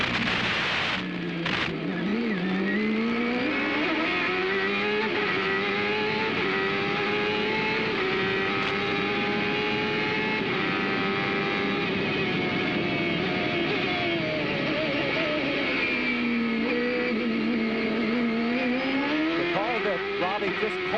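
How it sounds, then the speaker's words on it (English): Onboard a CART race car at a 1995 round in Australia, the engine screams steadily, its pitch rising and dropping through several gear changes over about twenty seconds, with a commentator talking over it. "The gear changes are spectacular here."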